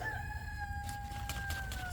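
Rooster crowing on a small farm garden plot, one loud drawn-out call with a gently falling pitch, close by, followed by softer clucking from the flock.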